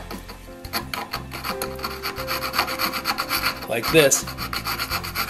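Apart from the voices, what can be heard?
filing and sharpening an auger bit edge with a file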